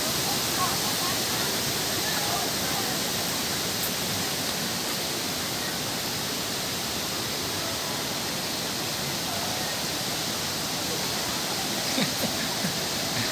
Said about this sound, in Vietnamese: Đây là mình đang ở trên đỉnh ngọn thác rồi.